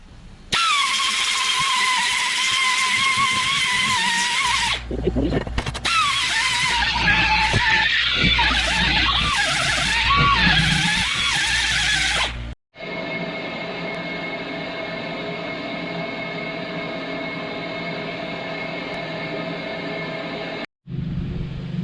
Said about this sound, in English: I've got to clean up the surface on the outside and inside so I can load them properly on the lathe.